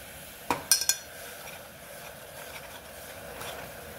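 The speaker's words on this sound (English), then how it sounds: "I'm using a stainless steel spoon to mix all of that." A stainless steel spoon clinks against a pan a few times while stirring sweet and sour sauce, with a soft steady sizzle beneath and no talking.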